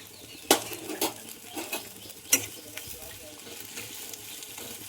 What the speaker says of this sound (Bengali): মশলাগুলো একসঙ্গে ভেজে নিচ্ছি